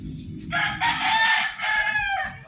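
A rooster crows loudly nearby, one long drawn-out call with a rising start and a trailing end, over faint background noise.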